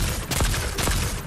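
Two sharp gunshots from a gun in Fortnite crack out about half a second apart, loud and close, each with a brief booming tail over game background noise.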